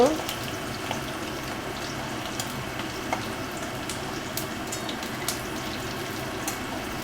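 Dried red chilies and bay leaf sizzle in hot oil in a pan, a steady close crackling fry with small pops throughout and no talking.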